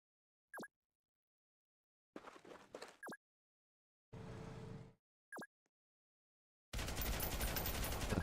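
Machine gun fire in the combat video game Noobs In Combat: short isolated bursts and single reports separated by silence, ending in a louder sustained stream of rapid fire, with no talk.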